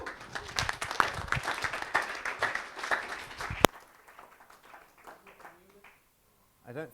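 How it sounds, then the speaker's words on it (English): A conference crowd applauds speaker Sam Davies, with scattered close claps for about three and a half seconds before cutting off sharply, followed by faint residual sounds. "give Sam a big round of applause"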